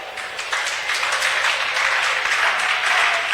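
A church congregation at a French-language service claps together in a dense, continuous burst of applause that swells slightly and holds steady, with scattered cheering mixed into the crowd noise.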